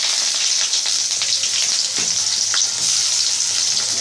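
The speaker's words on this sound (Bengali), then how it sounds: "একটা মাঝারি সাইজের পেঁয়াজ আমি কুচিয়ে রেখেছিলাম সেটা দিয়ে দিলাম প্রথমে।" Chopped medium onion hits hot mustard oil already crackling with cumin seeds and bay leaf, giving a steady, close, bright sizzle with occasional soft stirring scrapes and no talking.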